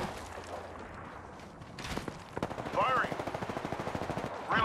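Rapid automatic gunfire in Apex Legends, a steady run of close, loud shots after a stretch of quieter game noise, with a voice speaking over the shooting.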